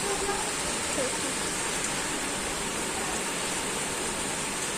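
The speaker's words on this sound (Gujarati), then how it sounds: "જો કેવો વરસાદ આવે" Heavy rain pours down in a dense, steady roar of hiss with no break, loud and continuous throughout.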